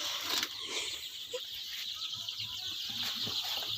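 Sonali chickens on a poultry farm, a steady bed of faint clucking and fluttering bird sounds over a continuous hissy background, with no clear voices.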